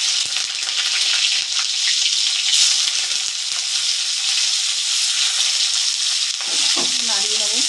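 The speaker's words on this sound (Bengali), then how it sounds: "আমি দিয়ে নেবো জিরে ফোড়ন, গোটা জিরে ফোড়ন, পেঁয়াজ," Cumin seeds and onion fry in hot oil in a wok, a steady close sizzle throughout with some stirring; toward the end a voice speaks briefly over the frying.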